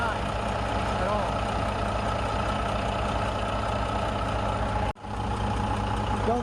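A truck engine idles steadily with a Kysor clutch fan spinning freely while the air system builds pressure, a loud continuous low rumble and whir by the roadside, with a short dropout near the end.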